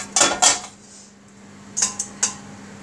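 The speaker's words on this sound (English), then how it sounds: "I'm going to take out my ribs and put them in my roasting tin here." Slimming World Diet Coke sticky ribs are moved into a metal roasting tin, giving clattering metallic clinks in two short clusters, close and fairly clear over a faint steady hum.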